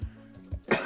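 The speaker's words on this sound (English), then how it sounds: "I'm still coughing on that bong hit." Several harsh coughs right after a bong hit, close and loud, ending in a throat-clearing burst.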